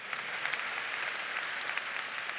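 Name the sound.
audience applause at commencement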